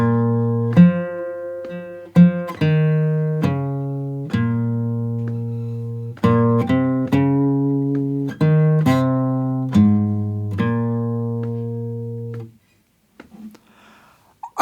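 A guitar plays the closing line of a song: a steady run of clear plucked single notes, each ringing briefly before the next, alone and close, then a short quiet tail.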